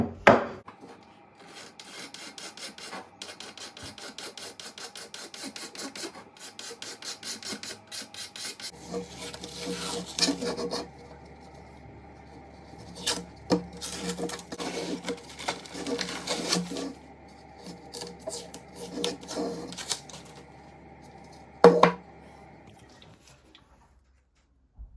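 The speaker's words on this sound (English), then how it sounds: "I'll use a Stanley blade to take the paint off the bearing edge and scrape that back." A Stanley blade scrapes paint off the bearing edge of a Tama Artwood snare drum shell during restoration, rapid rasping strokes in close bursts with pauses and a few sharp knocks.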